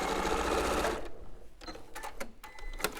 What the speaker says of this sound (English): Just make sure that seam is open there as I sew over the top.